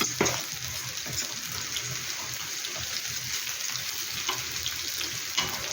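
Beef brisket slices sizzle on a grill pan in a steady, close crackle of frying fat, with light clinks of utensils and no talking.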